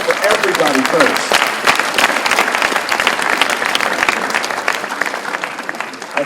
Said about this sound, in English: Let's clap it up for everybody first.